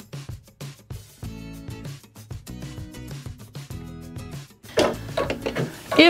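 A Baby Lock embroidery machine starts up and stitches in rhythmic mechanical bursts, its motor whirring in repeated runs with short pauses and clicks, growing louder toward the end, with no speech.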